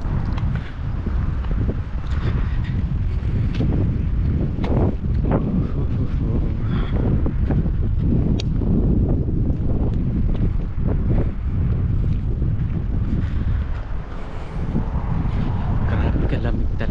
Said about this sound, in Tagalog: Ang lakas ng hangin yan.